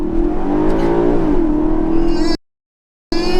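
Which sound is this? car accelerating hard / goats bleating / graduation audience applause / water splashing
car accelerating hard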